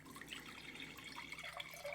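Water pours into a glass from a floppy-disk coaster setup, a faint steady trickling wash lasting about two seconds with no talk.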